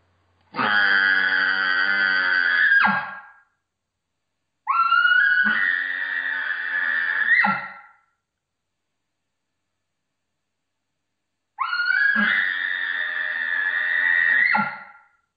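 Three high, strained whistling calls, each a couple of seconds long with a rising squeal, separated by silence; a person imitating an elk's bugle on a lip ball call.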